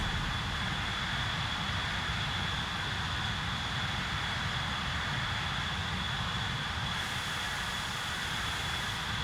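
A-10C jet in Microsoft Flight Simulator 2024 at Edwards AFB, heard from outside: a steady, loud engine roar with a high, sustained whine, unchanging throughout and with no voices.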